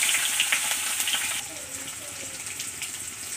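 Chopped onions hiss and sizzle steadily in hot oil with cumin seeds for a vegetable curry, a bright continuous fry that eases slightly partway through, with a faint voice in the background.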